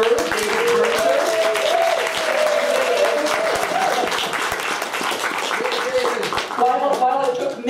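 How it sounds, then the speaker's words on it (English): An audience at a poetry festival panel applauds David Fraser, dense sustained clapping from a sizeable crowd with scattered voices and cheers mixed in, fading slightly near the end. "David, why don't you just stand up so everybody can give you the applause you deserve."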